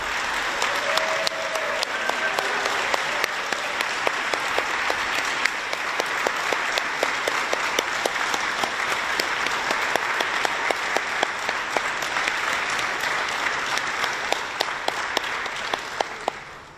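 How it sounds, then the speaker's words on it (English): A sustained, steady round of applause from a large audience at an exhibit opening for women veterans standing to be honored, dense and loud throughout, with a few sharp individual claps standing out near the microphone before it ends. "So I would like you all to stand so we can give you a round of applause."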